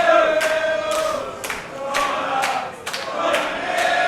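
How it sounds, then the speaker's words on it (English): Wrestling fans in a garage venue cheering and clapping, with rhythmic bursts of crowd noise recurring roughly every half second, a sustained roar underneath, moderately loud. "the fans in the garage showing their appreciation"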